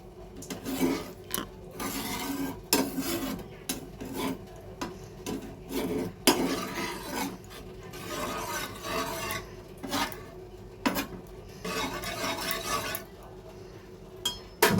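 A spatula scrapes and rubs around a pan of Bengali fish curry with water just added, making repeated gritty strokes and light metallic clinks in uneven bursts, close and moderately loud.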